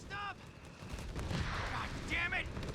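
Artillery fire in the strategy game Company of Heroes 3, with a few short booming impacts heard under steady talk and other in-game battle noise.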